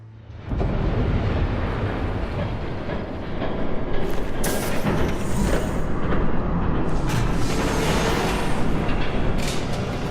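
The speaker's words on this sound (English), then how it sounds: "There's a train coming." A train in a Batman video game thunders past, a loud sustained rumble that swells midway with screeching, clattering bursts over the roar.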